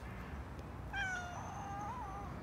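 A single drawn-out cat meow, fairly faint, rising then wavering down over a low steady background rumble.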